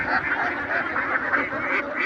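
Many ducks on a duck farm quack continuously in a dense, overlapping chorus, fairly close and steady throughout, with no talking.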